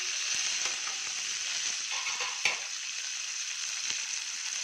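Spices with green chillies, cumin, pepper and rock salt frying in a pan, giving a steady hissing sizzle with faint stirring clicks throughout, moderately quiet and without voices.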